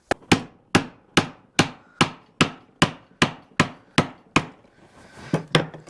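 A Strongway BowlAdze 4K adze chops into a wooden bowl blank, giving a dozen sharp, evenly spaced thwacks at roughly two per second, close and loud, with the final few strikes coming softer and less regular.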